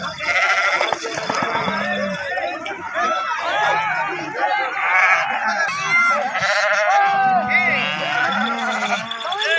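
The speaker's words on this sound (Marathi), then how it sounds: "आंघोळ केलेली मेंढी आहे." A freshly bathed sheep bleats among a flock, with many overlapping bleats and busy chatter of people talking nearby throughout.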